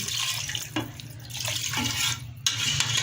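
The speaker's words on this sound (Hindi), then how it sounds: "इसमें 1 गिलास जितना हमने पानी डाला है।" Water, about one glass, runs steadily with a hissing, splashing flow into a cooking pot of potato and meat curry, with a low hum underneath and a few small knocks.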